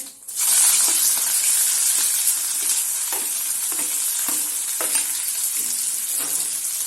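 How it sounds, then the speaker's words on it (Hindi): Cumin seeds and onion hit hot oil in a kadhai, giving a loud, steady sizzle that starts abruptly and carries on with faint stirring scrapes, close and without talk. "कढ़ाई में तेल गरम हो गया है, हम इसमें जीरा डाल देंगे, प्याज"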